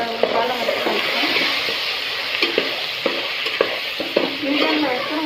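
Gongura chicken with curry leaves being stirred in a frying pan: a spoon scrapes and knocks the pan in an irregular rhythm over a steady close sizzle, no speech.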